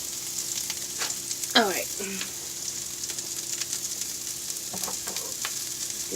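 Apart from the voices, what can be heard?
sautéing food in a pan for pizza sub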